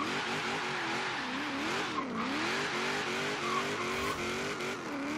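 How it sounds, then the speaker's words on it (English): Game V8-swapped Nissan 350Z launching off the line in a Forza Horizon 3 drag build, engine roaring and rising steadily through the revs with a continuous loud tone and tire noise, shifting pitch as gears change. "let's do a little bit of a launch here, see if we can keep it straight. I'm gonna launch at about 3 grand"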